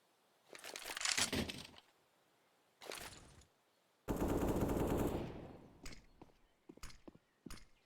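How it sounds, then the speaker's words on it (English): Gunfire in a Counter-Strike competitive match: rapid automatic bursts of shots, one long spray and several shorter volleys with single cracks at the end, mid-distance and loud with no talk. "heard these gunshots"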